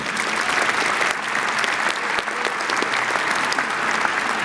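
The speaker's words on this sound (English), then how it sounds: "please give her a round of applause, Dr. Gina Matkin." An audience at a December university graduate commencement applauds, a dense, sustained round of clapping from a large crowd filling the hall without a break.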